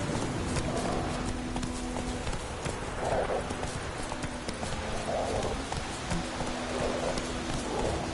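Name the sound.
horse Roach galloping in The Witcher 3 video game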